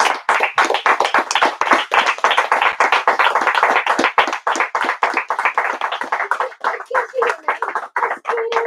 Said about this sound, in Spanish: un aplauso para el gran Domingo Villar